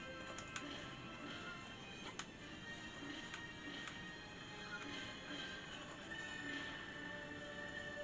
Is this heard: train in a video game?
yes